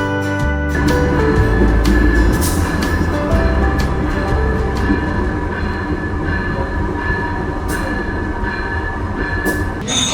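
Serayu passenger train arriving at Kroya station, a loud rolling rumble with a deep engine drone and steady rail noise, occasional high wheel squeals and clicks, close by with no talk.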